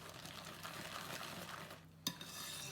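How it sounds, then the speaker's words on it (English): Hand whisk stirring crushed Oreo cookies into waffle batter in a bowl, a steady close scraping and swishing that runs continuously, broken by a brief pause and a sharp clink of the whisk against the bowl. "Now with your hand whisk, just give that a mix in to your batter."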